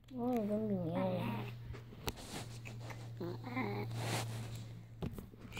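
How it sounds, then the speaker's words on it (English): A cat meows repeatedly in a home, with wavering tonal cries near the start and again midway, close and fairly loud over a steady low hum while someone talks to it. "Oh, don't be meowing."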